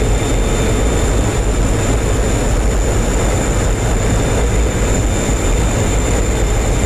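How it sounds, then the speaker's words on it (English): Aircraft engine roaring in a DCS World combat flight simulation, a loud continuous broadband drone with a steady high whine on top, unbroken for several seconds with no talk. "I hear the roaring of the engine"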